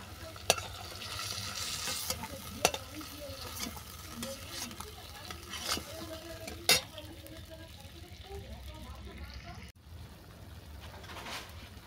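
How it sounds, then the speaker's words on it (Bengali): Shrimp frying in a pan, a soft continuous sizzle with stirring scrapes and a few sharp utensil clinks, while birds coo and chirp faintly in the background. "চিংড়ি মাছটা ভালো করে ভাজা হয়ে গেছে।"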